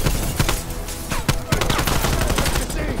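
Rapid, loud gunfire in the Black Ops Cold War campaign, dense bursts of automatic shots crackling continuously with sharp individual reports, close and overlapping, with almost no talk.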